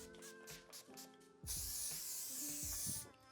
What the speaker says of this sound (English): We're gonna be using the Final Seal from Ben Nye and the Kryolan Fixing Spray to lock this